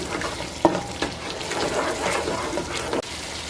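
Meatball mixture with green olives and fresh cilantro being stirred in a kitchen, soft wet stirring and scraping with a couple of sharp knocks against the bowl, close and fairly quiet.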